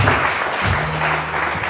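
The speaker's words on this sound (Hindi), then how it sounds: "तालियां बजाइए इनके लिए।" Applause from a studio audience on a TV morning show, a continuous crowd patter at moderate level with a low hum and some voices underneath.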